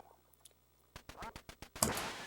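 Ducks quack in the Duck Hunt video game as a quick run of sharp, closely spaced calls that ends in a louder noisy burst over a quiet background.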